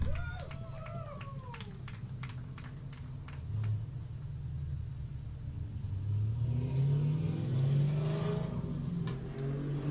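A Mustang drift car revs its engine at a drift competition, the rising and falling engine roar building toward the end over crowd noise and a faint announcer voice.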